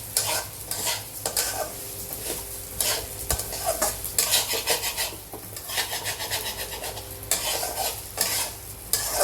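Mung dal fries and is stirred in a pan in a home kitchen, giving a steady close sizzle with continuous scraping and rasping strokes of the spoon throughout, and no talking.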